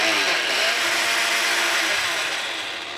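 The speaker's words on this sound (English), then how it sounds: "take it off the stove and put it into a blender" A kitchen blender whirs at steady high speed pureeing cooked pumpkin with sweated onion, a loud continuous motor roar with no talk that eases slightly toward the end.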